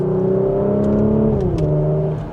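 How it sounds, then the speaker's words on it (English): A 2026 Porsche Macan GTS in sport mode accelerates gently from second gear, its exhaust giving a loud, smooth engine tone that rises, dips at a gear change, then settles. "just a minor acceleration there. And it sounds really good for that exhaust system."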